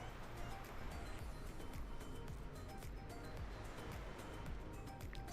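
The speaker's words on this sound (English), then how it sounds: "It's nice to hear the ambience of the waves and stuff" Steady ocean waves and surf ambience from a flight simulator game set over the Florida Keys near Miami, a continuous broad wash with no distinct breaks, heard alone at moderate level.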